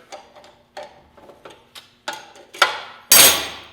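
Wrench working loose the arbor nut on a chop saw blade, a series of short metallic ticks and clicks that grow louder and sharper toward a final clanking hit.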